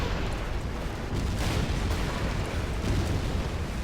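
An artillery barrage in the Rise of the Reds real-time strategy game rumbles as a dense, continuous wash of explosions, loud and roaring without clear gaps between impacts.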